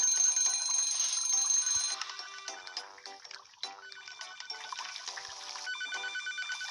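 Ringing telephone in the restaurant game Papa's Cluckeria To Go, a bright repeating electronic ring that plays steadily over light game chimes and effects, with no talk.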